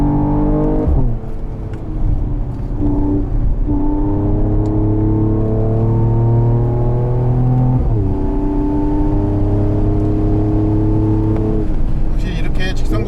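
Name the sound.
2022 AMG GT43 4Matic Plus accelerating and shifting gears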